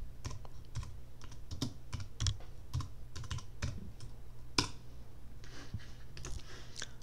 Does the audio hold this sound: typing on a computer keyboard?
yes